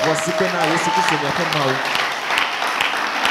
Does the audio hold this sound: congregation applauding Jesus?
yes